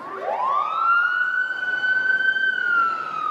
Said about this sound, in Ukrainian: це звук пожежної машини.